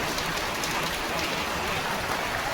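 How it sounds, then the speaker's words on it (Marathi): Heavy rain drums steadily and densely on metal roof sheets, a loud continuous hiss with no pauses or voices. "जोरात पाऊस होतोय आता बापरे एवढे वाजायला लागलं पत्र्यावरती"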